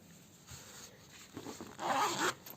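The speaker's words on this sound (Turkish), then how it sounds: "ve şahane bir fermuar çalışmamız olmuş oldu. Son olarak açıyorum." A trouser zipper with a fly facing is pulled open in one quick rasping run, close and clear, after a few faint handling sounds.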